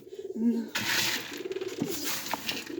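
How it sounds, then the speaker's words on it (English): Birds coo softly in low, rounded calls, with a brief clatter and rustling in between, fairly quiet and close by. "there's a lot of birds behind the camera"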